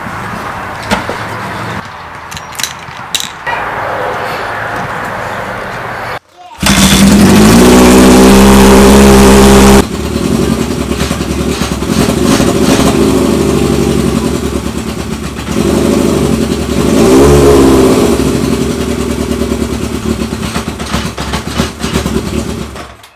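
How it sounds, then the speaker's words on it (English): A motorcycle engine runs on full choke after quiet fiddling: it bursts into a loud, rough roar for a few seconds, then keeps running steadily and loudly, rising and falling slightly with the throttle. "The bike only runs on full choke, and if I open the throttle or release the choke, the motor falls flat on its face."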